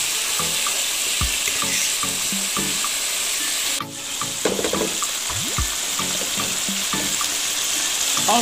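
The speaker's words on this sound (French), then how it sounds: "Ensuite, je vais rajouter un tout petit peu d'eau." Water pours into a pan of beef frying with onions and paprika, a loud steady hiss and bubbling that breaks briefly, then resumes sizzling with stirring clinks, no talk.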